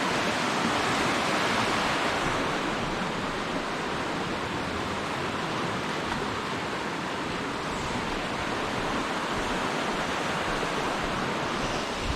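A waterfall beside a trail during a trail marathon roars as a broad, steady rush of falling water, loud and unbroken for the whole stretch, with no voices over it.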